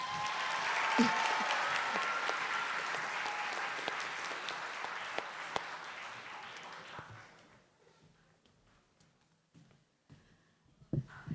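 Audience applause for five teen finalists at the National Book Awards, a steady round of clapping that fills the room for about seven seconds before thinning to a few scattered claps and quiet.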